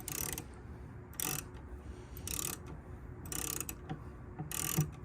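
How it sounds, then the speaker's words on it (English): A small ratchet turns the headlight adjuster on a Chevy Trailblazer, clicking through five rapid bursts at a steady rhythm, close and fairly loud with quiet gaps between strokes. "I'm basically gonna put a little ratchet on it, and we're gonna go up one brick."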